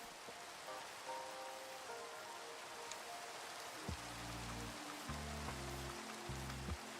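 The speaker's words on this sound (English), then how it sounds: "Is the rain super loud?" Steady video game rain hisses evenly throughout while soft, simple musical tones play alongside it, with a low melodic line entering partway through.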